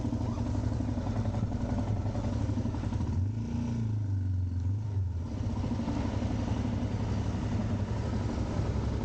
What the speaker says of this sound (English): Let's get out the way and let this tractor pass.